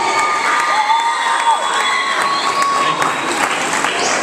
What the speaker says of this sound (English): please give a round of applause for the captain of the Compton Sheriff